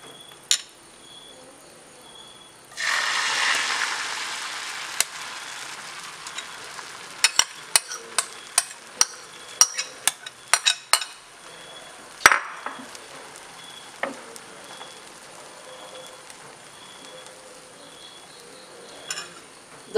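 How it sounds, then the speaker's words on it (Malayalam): Egg mixture for a street-style masala omelette poured into a hot pan bursts into a loud close sizzle, then a steady frying hiss continues with scattered sharp clinks of a utensil against the pan. "മുട്ടയുടെ കൂട്ടൊഴിച്ച് കൊടുക്കാം."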